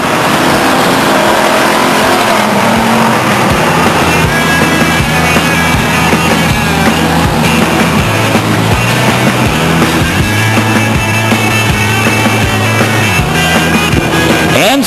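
Race cars circle Stockton 99 Speedway under a caution flag, a loud, continuous engine roar with rising and falling revs from several cars at once and no talk over it.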